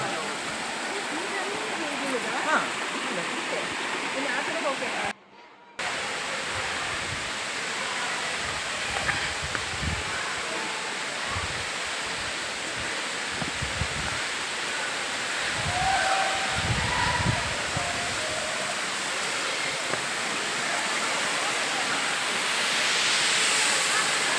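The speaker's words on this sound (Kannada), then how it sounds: "ನಡೀತಾ ನಡೀತಾ ಫಾಲ್ಸ್ ಬಂದಿದ್ದೆ ಗೊತ್ತಾಗಲಿಲ್ಲ" Kudlu Falls waterfall in the Agumbe rainforest, a steady broadband rush of falling water throughout, near and continuous, with a brief gap around the middle and possible faint voices.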